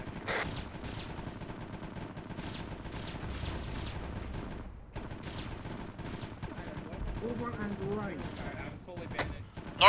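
Repeated gunshots and heavy weapon fire aimed at a Chimera vehicle during an Arma battle, sharp bursts scattered across the clip under ongoing game sounds and background voices.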